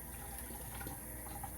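Water poured off freshly cleaned fish in a kitchen, a brief soft splashing trickle heard faintly up close.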